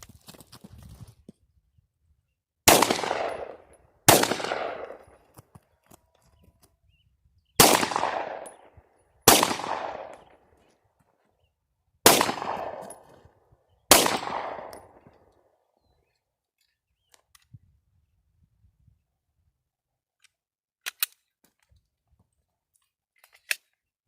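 Seven sharp gunshots from a Glock 19 pistol, fired singly at uneven intervals of about one to two seconds, each loud, close and cracking, followed by quiet with a few faint clicks.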